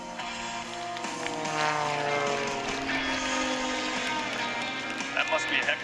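A propeller aerobatic airplane flown by Kevin Coleman performs at the Thunder Over Michigan airshow, its engine droning loudly with rising and falling pitch as it maneuvers overhead, with an announcer's voice over the public address.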